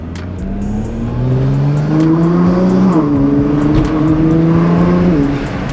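A Nissan GT-R R35 sports car's exhaust drones and rises as the engine revs and accelerates, loud and close, with no talking.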